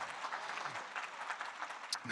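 Audience at a business luncheon giving a round of applause, a faint, fairly distant patter of many hands clapping steadily throughout.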